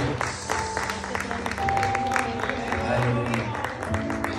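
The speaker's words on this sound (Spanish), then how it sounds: "Le damos un aplauso a Dios y a esta bonita pareja" Guests at a wedding applaud the newly married couple, a sustained patter of clapping from a modest crowd, mid-distance, with voices mixed in underneath.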